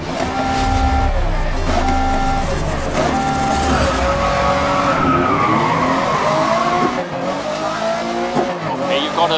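Race cars in the Grid 2019 video game roar off the starting line, engines revving and shifting up through gears with tire squeal, loud and continuous for the whole stretch.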